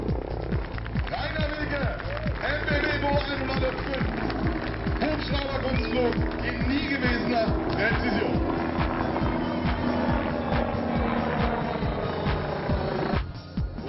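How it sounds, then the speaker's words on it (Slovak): A German Eurocopter BO-105 helicopter flies aerobatics at an air show, its rotor chopping in a steady pulsing beat that stays loud throughout, with a narrator's voice over it. "S nemeckou helikoptérou Eurocopter BO-105 predviedol vrchol vrtuľníkovej akrobácie."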